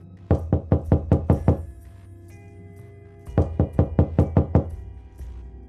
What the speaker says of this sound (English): but the knocking continued.